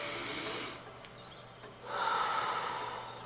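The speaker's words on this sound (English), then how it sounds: "take a moment, you guys, and breathe deep." A single deep, audible breath drawn in sharply through the nose, then a pause and a long, airy exhale, close and clear during a quiet guided meditation.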